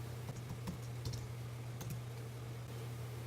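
Soft typing on a computer keyboard, a few scattered key clicks over a steady low hum, quiet and close with no talking.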